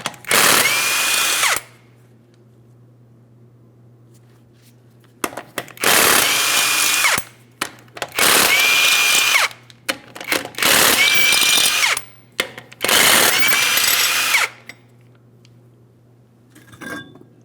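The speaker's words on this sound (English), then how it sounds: "we're going to be using a 21mm to remove all 5 of our lug nuts" A power tool with a 21mm socket removing the wheel lug nuts on a 2015-2025 Ford Transit 250, running in five loud, close bursts separated by quiet pauses, each with a whining pitch shift, plus a faint steady hum underneath.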